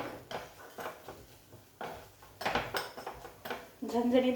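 Salt being stirred into chili in a pan while cooking Maharashtrian zunka, heard as a series of close metal spoon scrapes and clinks against the pan in short bursts, with a voice speaking.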